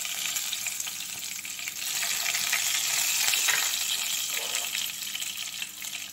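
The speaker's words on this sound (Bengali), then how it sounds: "ভাজা ভাজা হয়ে এসছে" Whole spices (bay leaf, cardamom, cinnamon, cloves and black peppercorns) fry in hot oil with a continuous, close crackling sizzle that swells in the middle and eases off slightly, with no voices.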